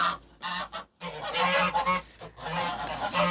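A gander honks loudly and repeatedly at close range, harsh calls coming in bursts with brief pauses between them.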